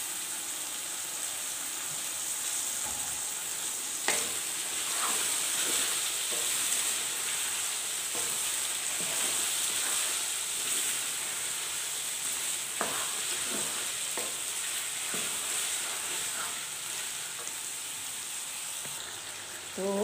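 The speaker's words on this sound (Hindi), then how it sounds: "तो अब हम इनमें आलू भी ऐड कर देंगे इसमें।" Potatoes fry in a pan for achari mixed vegetables, a steady hissing sizzle like light rain running throughout, with occasional soft scrapes and taps of a utensil, close and unaccompanied by talk.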